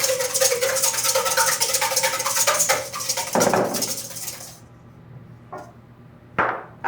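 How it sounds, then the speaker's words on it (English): Eggs whisked briskly in a bowl for a clafoutis batter, a steady rapid clinking and scraping that runs for several seconds, then slows and stops, leaving a few faint isolated taps. "I'm gonna whisk the eggs."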